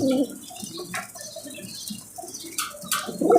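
Pigeons flap their wings as they land, a few quick, close wingbeat flutters scattered across a brief moment, with faint soft cooing between them.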